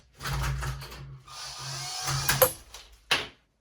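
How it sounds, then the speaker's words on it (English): A power drill driving a key-fitted bit during Christmas craft making whirs steadily for a few seconds, dips, then revs up again with a brief final spin, close and alone. "now I will put the key in the door and use the drill"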